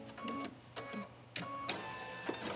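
A computerized embroidery machine ties off stitches on a kimono-style dress, giving short bursts of mechanical whirring and buzzing separated by brief pauses, close and fairly quiet.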